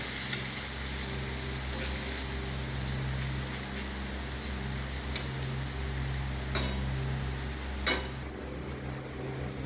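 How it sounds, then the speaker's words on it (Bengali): Lentil paste cake frying in a little oil in a pan gives a steady, even sizzle throughout, broken by a few sharp clicks of a spatula against the pan. "এই যে এইরকম ভাবে এই চাপটা ভেজে নিতে হবে ডাল বাটাটা"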